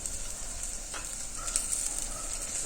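Coriander powder, chili powder and turmeric frying in hot oil in a pan give off a steady, soft sizzle with a faint hiss and a couple of light stirring scrapes, with no voices.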